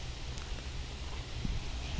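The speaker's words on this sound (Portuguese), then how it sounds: "Olha o vento que tá aqui nas árvores, olha. Tá uma ventania danada." Strong wind gusts through many trees at a rural homestead, a steady, fairly quiet broadband rush of moving leaves and air that holds without pause throughout.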